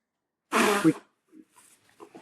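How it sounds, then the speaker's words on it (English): One loud, wet nose blow lasting about half a second, followed by a few quiet sniffs and rustles. "I'm going to blow my nose."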